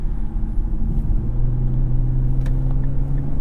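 A 2008 Infiniti M35X on the road, its engine giving a steady low rumble with a sustained drone, close and continuous with no talk.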